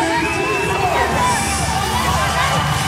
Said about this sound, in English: She's got this crowd fired up here at the Pirate Ship.